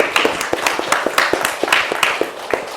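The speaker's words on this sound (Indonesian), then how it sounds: "Tepuk tangan dulu untuk semua kelompok." A classroom of students claps for all the presenting groups, a fairly loud, close patter of distinct, somewhat uneven hand claps without speech.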